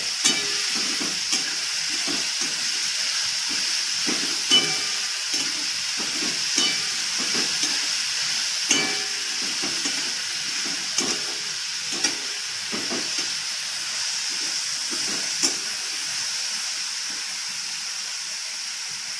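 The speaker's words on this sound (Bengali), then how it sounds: "কেটে রাখা সমস্ত সবজি দিয়ে জাস্ট একটু নাড়িয়ে নিতে হবে।" Chopped vegetables for Maggi noodles are stirred in a hot pan under a steady hiss and sizzle, with regular scraping and knocking strokes of a utensil across the pan throughout, close and unvoiced.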